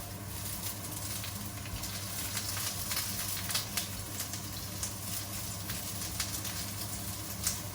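Chopped onion sizzles in a hot pan on a lowered burner while burger patties are being prepared, a steady, faint crackling hiss with small irregular pops throughout.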